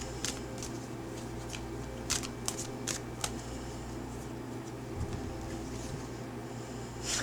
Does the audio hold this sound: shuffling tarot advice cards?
yes